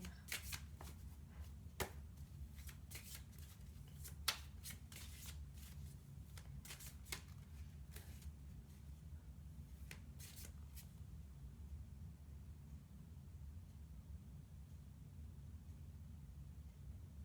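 Tarot cards shuffled by hand for a reading, quick riffling bursts of papery clicks near the start that thin out and stop, faint and close over a low background hum.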